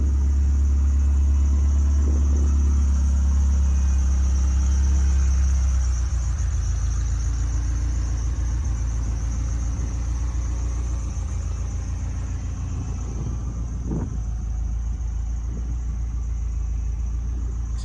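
A 1978 Ferrari 308 GTS engine idles after a cold start with choke, a steady low rumble that runs throughout and eases slightly after the first few seconds, close and continuous, with a few faint knocks near the end.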